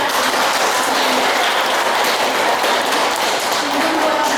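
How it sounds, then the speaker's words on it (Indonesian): Women in a church congregation applaud together, a dense, steady wash of clapping that fills the whole stretch without a break. "tepuk tangan yang meriah"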